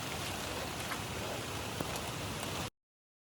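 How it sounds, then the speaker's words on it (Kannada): Rain falling in a forest on the way to a waterfall, a dense steady hiss of drops close around, ending abruptly after a few seconds. "ಮಳೆ ಬೇರೆ ಬರ್ತಾ ಇದೆ"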